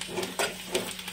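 Chopped onion frying in mustard oil, seasoned with salt and turmeric, sizzling softly and steadily with small bursts of crackle near at hand.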